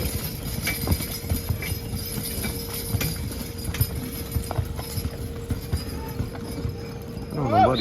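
Lightweight horses plod on dirt in an Allegany County Fair horse pull championship. Their hooves give irregular, fairly close thuds against steady crowd and fairground background noise.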